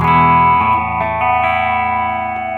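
Electric guitar played through a Spaceman Explorer phaser pedal on a very slow sine-wave sweep, sustained chords ringing with a gradual swirling shift in tone and no talking.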